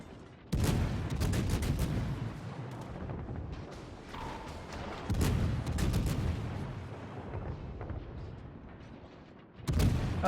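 Naval gunfire in the World of Warships video game, a light cruiser blasting a battleship: heavy booming salvos, sustained rumbling rapid fire, then a fresh barrage at the end, loud and continuous.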